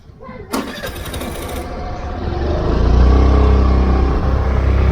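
A motorcycle engine on a moto vlog ride catches with a sharp start, settles into a rumbling idle, then swells as the bike pulls away, close and loud with no talking.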